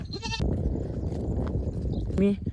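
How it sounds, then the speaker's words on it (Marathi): Goats out on open grazing land give two distinct bleats, one near the start and one near the end, over a steady outdoor background. "तर हे बघा आपल्या शेळ्या"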